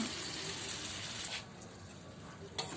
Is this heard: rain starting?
no